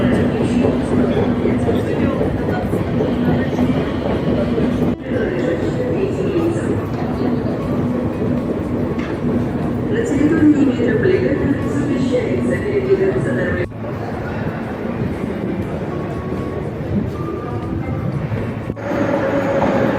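A St. Petersburg metro train rolls along toward Spasskaya station, a steady loud rumble of wheels and carriage noise with occasional clicks, and voices talk over it.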